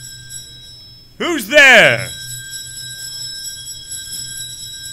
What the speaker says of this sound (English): suddenly, Scrooge's calling bell began to ring